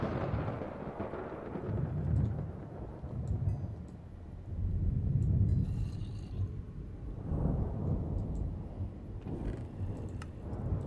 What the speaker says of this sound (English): I blame the thunder sounding a little too similar to